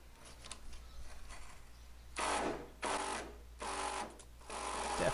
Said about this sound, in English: I'm using a impact drill to try to get these out.